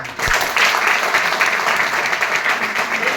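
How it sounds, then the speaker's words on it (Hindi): Loud applause from a seminar audience for the organiser, a dense burst of clapping that starts abruptly after a brief thump and continues steadily. "आज का सेमिनार जिस व्यक्ति ने आज आपको बुलाया उसके लिए एक बार जोरदार तालियां"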